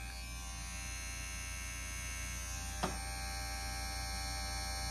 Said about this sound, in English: So that's the clipper, and I'm liking that.